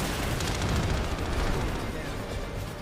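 A chain of explosions in the PlanetSide 2 video game, with dense overlapping booms and gunfire-like blasts that rumble continuously and loudly, close up, without a break.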